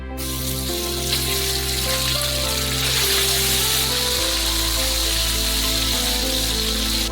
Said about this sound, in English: And we'll fry up our chicken first.